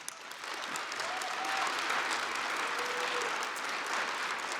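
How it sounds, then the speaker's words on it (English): Conference audience at a Python community keynote breaking into sustained applause, a thick even roar of many hands building quickly and holding steady to the end. "That deserves a clap."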